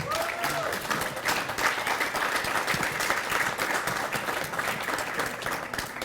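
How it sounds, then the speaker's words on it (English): Sustained applause from a large audience for panelists at a real estate market update event, steady dense clapping filling the whole stretch at an even, fairly loud level. "Let's hear a round of applause for our panelists."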